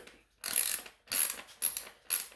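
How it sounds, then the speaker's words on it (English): Half-inch wrench tightening the T-bolts on a Caroma Caravelle one-piece toilet: three or four short bursts of close metallic ratcheting clicks, separated by brief pauses. "tighten down the T-bolts, which will tighten down the collar"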